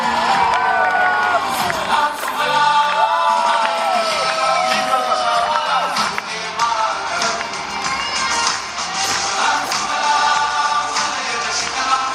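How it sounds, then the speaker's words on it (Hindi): An audience at a talk on chemical-free living claps and cheers continuously, with whoops and shouts rising over a sustained wash of applause from a large crowd. "तालियां जबरदस्त बननी चाहिए।"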